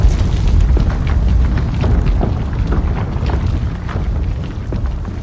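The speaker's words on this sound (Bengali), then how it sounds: "বিস্ফোরণের শব্দ শুনতে পেয়েছিলাম কিনা মনে নেই" A deep, sustained explosion rumbles continuously as rock gives way to an abyss in a dramatized reading of Jules Verne's Journey to the Center of the Earth. It sounds loud and close, with crackling bursts over a heavy low roar.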